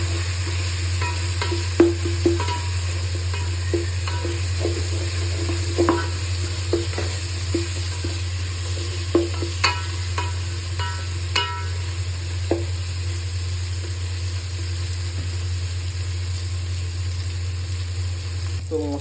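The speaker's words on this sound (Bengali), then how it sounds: "তো মশলাটা কষিয়ে এসেছে," Spice paste for chicken biryani fries in mustard oil, a steady close sizzle over a low hum, with irregular scrapes and taps of a spatula against the pot as it is stirred.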